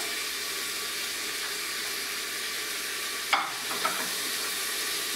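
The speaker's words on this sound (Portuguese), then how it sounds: "Vou fritar tudo isso." Calabresa sausage fries in a pan of oil with tomato, onion and garlic, giving a steady close crackling sizzle that carries through, broken briefly by a few stirring clatters.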